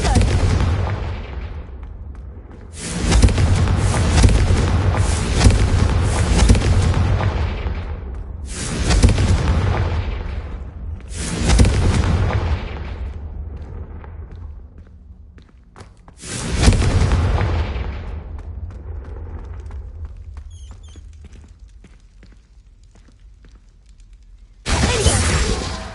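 Confringo spell blasts in the Hogwarts Legacy video game, several loud booming explosions spaced a few seconds apart, each with a long rumbling decay, with a final sharp burst at the end.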